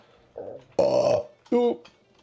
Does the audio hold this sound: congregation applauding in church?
no